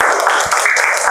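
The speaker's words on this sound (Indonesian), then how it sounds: "Tepuk tangan buat teman-temannya." Short burst of classroom applause for students during an Indonesian school lesson, dense close clapping from a group of children lasting about a second.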